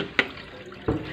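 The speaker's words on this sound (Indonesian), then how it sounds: "pakai centong ini ya. Karena ini tidak bisa dibuka. Dia itu dibaut keras. Nanti centong aja buang airnya." A ladle scoops water out of an Electrolux fridge, giving two separate short splashy scoops close by, each a brief watery slosh with a quiet pause between them.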